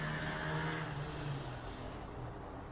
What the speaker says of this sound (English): Another motorcycle, great